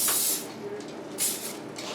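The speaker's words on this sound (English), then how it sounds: "I'm going to spray the tops of them with a little EVOO spray." Short bursts of olive oil cooking spray hiss over the tops of fries before they go into the oven, two quick close sprays separated by a brief pause.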